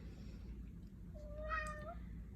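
A house cat gives a single drawn-out meow, rising then bending at the end, heard fairly close in a quiet indoor room with a low background hum.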